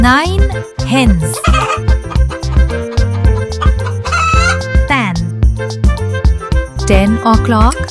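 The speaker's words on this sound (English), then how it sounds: "9 hens" Hens cluck and a rooster crows amid upbeat music, repeated bird calls popping up over the steady beat.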